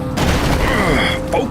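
Gunfire during a police chase in The Precinct video game, a rapid burst of loud, close shots with booming impacts, overlapping with voices in the mix.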